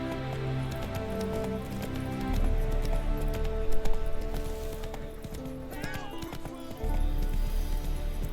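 Roach the horse gallops in The Witcher 3: Wild Hunt, with quick rhythmic clip-clop hoofbeats and a whinny, while a voice briefly sounds over the hooves.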